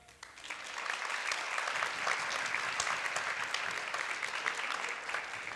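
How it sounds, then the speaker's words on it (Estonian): Steady applause from an audience at a live music stage event, rising quickly from a soft start into a dense, even clatter of many hands that holds for several seconds, moderately distant. "Palun suur aplaus Jüri Ratasele."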